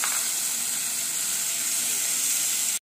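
Macaroni pasta goes into a pan of fried tomato and onion, giving a loud, close, continuous sizzle and hiss that stays steady until it cuts off abruptly.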